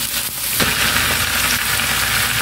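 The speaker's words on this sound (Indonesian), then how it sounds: "langsung kita masukkan pakcoy sama jamur yang tadi sudah direbus ya" Pak choy and boiled mushrooms with chilies hiss and sizzle loudly in a hot pan as they are stir-fried, a steady close crackle with a brief stirring clatter.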